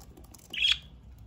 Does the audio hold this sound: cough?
no